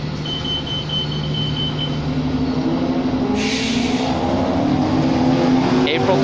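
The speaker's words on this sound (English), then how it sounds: "There goes the bus" A 2007 New Flyer D40LFR 40-foot low-floor diesel city transit bus pulls away on a street, its steady engine drone holding loud and close throughout, rising slightly as it moves off.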